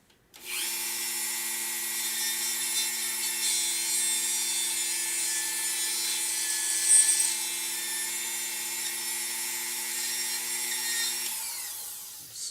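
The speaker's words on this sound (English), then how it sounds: "sheesh, I'm gonna have to keep drilling." A power drill bores into a plastic toy during a repair, a steady whining motor with a grinding bite held for about eleven seconds, close and fairly loud, with no talking.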